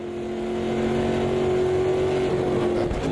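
A GT-class race car engine in the Automobilista 2 racing game holds a steady, buzzing drone with strong tonal harmonics, loud and close, swelling slightly toward the end, with no speech.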